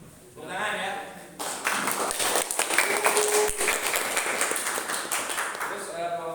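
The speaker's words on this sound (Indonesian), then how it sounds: "Tepuk tangan ya." Schoolroom applause during Indonesian student group presentations: a class claps together for several seconds as one dense patter, with voices heard at the start and end.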